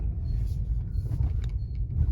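A car in China sets off on a trip, a steady low engine and road rumble heard from inside the cabin with faint rattles and no talk.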